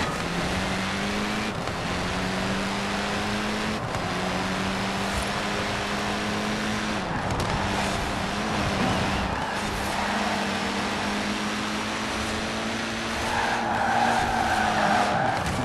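A Ford Fiesta GRC rally car in Forza Horizon 4 slides through a braked turn, its tires squealing in long sustained skids under a steady engine drone, with brief breaks between slides.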